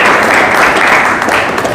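A church congregation claps together in praise, a loud dense burst of many hands applauding at once, close and sustained for a couple of seconds.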